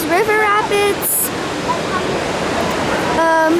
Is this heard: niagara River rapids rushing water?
yes